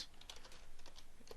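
Code is typed on a computer keyboard in a quick, steady patter of soft key clicks, close but quiet, with no talk.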